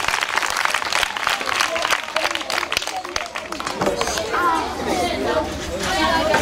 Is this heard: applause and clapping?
yes